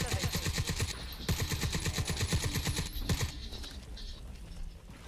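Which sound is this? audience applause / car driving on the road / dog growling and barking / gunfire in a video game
gunfire in a video game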